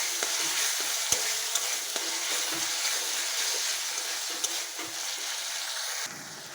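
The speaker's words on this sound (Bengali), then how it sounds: "মশলাটা ভালো করে কষাতে হবে।" Spices being stir-fried in a pan for chicken curry after garlic and onion paste; a continuous close sizzle runs for several seconds with occasional sharp scrapes and taps of the spatula, then eases slightly at the end, with no voices.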